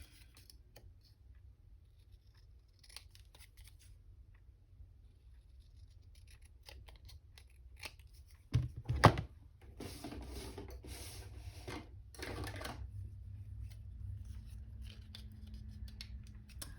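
Scissors trimming down-sized kit papers for a mini junk journal, heard as a short burst of close snips and paper rustle after a quiet stretch, followed by steady soft handling noise.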